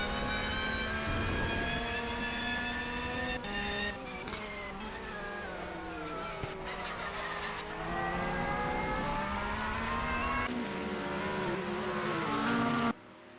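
Porsche and Ferrari race cars scream along in the rFactor racing game at the Daytona 6 Hours, high-revving engines droning loudly and shifting pitch as they pass and change gear, then cutting off abruptly.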